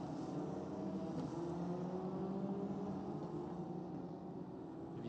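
Single-seater race cars running behind the safety car at the Paul Ricard circuit, a steady broad engine drone with a faint higher whine, continuous and moderately distant for the whole stretch.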